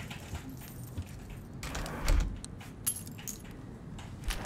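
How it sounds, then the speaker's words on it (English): A set of keys jangles and clinks in the video game Life is Strange, a brief metallic rattle that swells once, then gives a few lighter chinks, close and moderately loud with no talk. "I need to hide the keys where William won't hear his dumb beeper"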